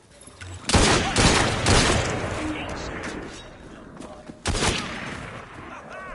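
Gunfire erupts after a shouted order to open fire: loud bursts of shots, a sustained volley around the first two seconds, then a second sharp burst later, with voices mixed in.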